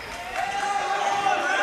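A basketball game crowd cheers in a gym, a steady broad roar of voices and whoops holding at moderate loudness and swelling slightly, with a sustained tone running underneath.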